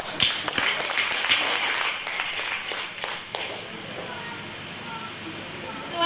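Scattered clapping from an audience at a talk, a few sharp claps at first and then a thinner patter that tapers off, heard with background murmur and voices.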